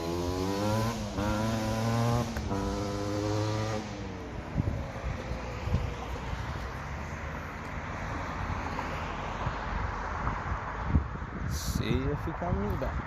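A Suzuki LT250R ATV being ridden, its engine revving and rising in pitch early on, then fading into a more distant, breaking-up drone with wind-like noise, while people talk nearby.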